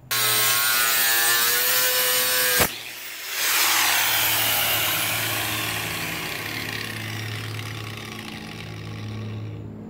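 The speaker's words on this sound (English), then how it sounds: "I got to cutting using my cutting wheels" An abrasive cutting wheel grinds through angle metal, a loud steady high-pitched rasp with ringing tones, briefly cut off midway, then resuming and slowly winding down.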